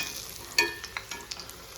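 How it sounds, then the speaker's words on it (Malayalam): Small shallots and garlic fry in coconut oil in a pan, with a steady sizzle broken by a few sharp clinks and scrapes of stirring and no voices. "നല്ല കുഞ്ഞുള്ളി തന്നെ എടുക്കണം എന്നിട്ട് ഇതൊന്ന് കളർ മാറണ വരെ ഒന്ന് മൂപ്പിച്ചെടുക്കുക"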